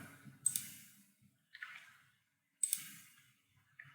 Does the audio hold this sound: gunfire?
no